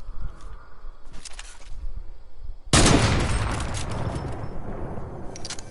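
Sniper gunfire in a video game: one loud, sharp shot followed by a long rumbling decay, after some quieter clicks and rustle, with no talk.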